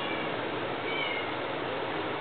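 A female tortoiseshell cat named Xiaoman, kept at a stray-cat shelter, lets out soft meows that are faint and partly buried under a steady background hiss.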